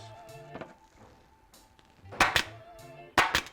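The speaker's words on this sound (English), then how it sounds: "shoot two staples in there" A staple gun fires staples into a seat cover on a Crew Dart24 e-bike, two sharp, close snaps near the end after quieter handling sounds.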